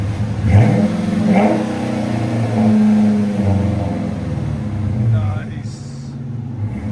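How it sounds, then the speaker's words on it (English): A 2015 Dodge Challenger R/T with a 5.7L HEMI V8, six-speed manual and Flowmaster 40 Series exhaust revs in deep, rumbling swells under someone talking over it nearly throughout. "Flowmaster 40s. They always have such a distinctive sound to them."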